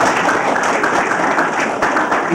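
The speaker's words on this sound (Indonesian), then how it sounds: "Kita tepuk tangan dulu" A studio audience bursts into dense, lively applause for the whole short stretch, close and loud, with crisp claps and no clear speech over it.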